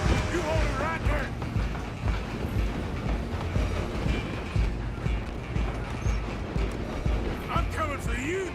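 A moving train in a Western-style game scene rolls along with steady rhythmic clatter and rumbling carriages, loud and continuous, with occasional creaks and brief shouted voices over it.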